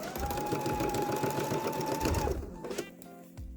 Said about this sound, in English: Take a few stitches and then back stitch to lock the stitch.